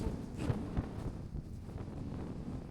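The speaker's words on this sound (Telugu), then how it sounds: "literally too much of wind." Strong wind at Zero Point in North Sikkim on a snowy day, a steady rough roar buffeting the microphone throughout, with a few louder gusts near the start.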